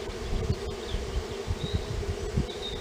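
A swarm of black honey bees makes a steady, dense buzzing close by. The drone is low and continuous, with faint individual bees whining past.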